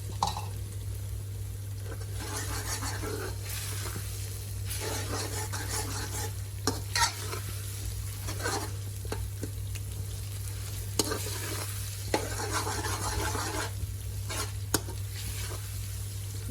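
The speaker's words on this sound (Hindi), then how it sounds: "इसको 1 मिनट फ्राई कर लेंगे।" Masala fries in a pan for mutton and potato gravy, a constant low sizzle under repeated scraping strokes of a spoon stirring against the metal, with occasional light clinks and a steady hum beneath.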